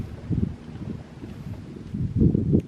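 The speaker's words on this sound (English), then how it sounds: "It's really nice listening to the wind in the palm trees" Breeze moving through palm trees along a boardwalk at a Florida salt marsh, a steady low rustle and buffeting with gusts swelling near the start and again toward the end, fairly close and moderately loud.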